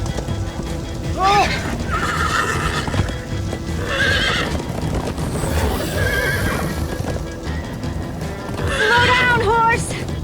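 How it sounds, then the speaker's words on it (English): Horses in the Minecraft Story Mode video game neigh repeatedly in high whinnies over a steady clip-clop of galloping hooves, with game music and effects underneath. "Slow down, horse!"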